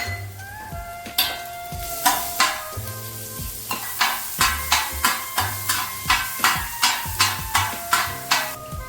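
Garlic slices and chopped green chillies frying in a pan, with a steady sizzle under a run of regular, sharp clanking stirs against the pan, close and without talk.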